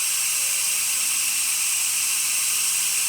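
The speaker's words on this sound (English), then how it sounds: "And steam, as you can see, nice and steady, good pressure, really good temperature." Steam wand on a Breville Oracle espresso machine hisses loudly and steadily after a boiler service, a constant close high-pitched jet of steam with no break.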